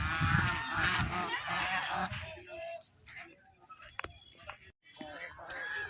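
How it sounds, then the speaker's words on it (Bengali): Loud, dense honking from a flock of geese in a rural village fills the opening seconds, then thins to scattered calls and rustling nearby. "এখানে অনেক হাঁস রাজহাঁস"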